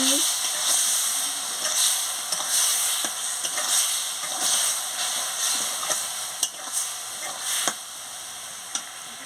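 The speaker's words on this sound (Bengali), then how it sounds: "মিষ্টি দিয়ে ভালো করে নাড়িয়ে দিচ্ছি" Raw mango chutney cooks with sugar in a pan as it is stirred, giving a steady sizzling hiss with soft, repeated scraping strokes and a few sharper knocks toward the end.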